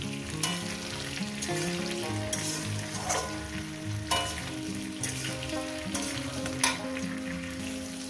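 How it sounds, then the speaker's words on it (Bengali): Ingredients frying in hot oil in a pan for a prawn and taro curry with turmeric, cumin and coriander powder, a dense continuous sizzle with occasional stirring scrapes, close and steady, with a faint music bed and no talking. "আমি প্রায় দু তিন মিনিট মানে তিন চার মিনিট ধরে ভেজে নেব"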